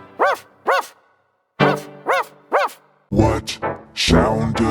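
A dog barks in short doubled bursts, pairs of loud yips separated by pauses, followed by a denser run of rougher barks and noise toward the end; close and prominent with no other sounds.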